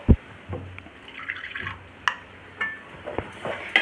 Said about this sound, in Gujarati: હવે આપણે જરૂર પ્રમાણે પાણી ઉમેરશું.